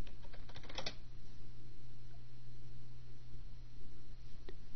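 Typing on a computer keyboard at a desk: a quick cluster of clicking keystrokes near the start, then a steady low hum of room and computer noise with only a faint extra tap later.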